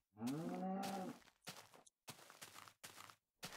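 A cow in Minecraft lets out one long, clear moo at close range, followed by several short bursts of blocky footsteps or movement sounds.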